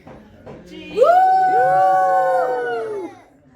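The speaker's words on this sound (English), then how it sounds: "Right, one big last cheer." A crowd at a presentation evening at a Derby Hindu temple lets out a big final cheer, a loud sustained whoop of many voices lasting about two seconds before tapering off.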